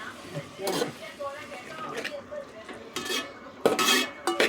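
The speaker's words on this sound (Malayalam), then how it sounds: "നമുക്ക് ഇളക്കി കൊടുക്കാം" Clam thoran stirred in a pan with a metal spoon, scraping and clinking against the pan in irregular strokes, with faint sizzling beneath; someone talks between the stirs.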